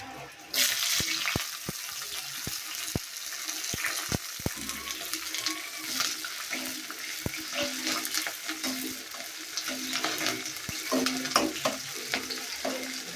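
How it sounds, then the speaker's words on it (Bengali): Onions sauté in oil in a pan with a continuous close sizzle, punctuated by sharp taps and scrapes of a spoon stirring against the pan at irregular intervals. "পেঁয়াজ কষে দিয়ে দিই"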